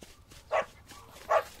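Two short, sharp barks from a family dog, evenly spaced and moderately loud against a quiet background, with no talking.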